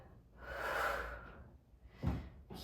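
A soft, breathy exhale during a yoga stretch, close and quiet, followed by a short sharper breath near the end.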